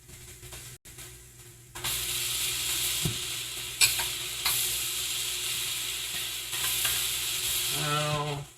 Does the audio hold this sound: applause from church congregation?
no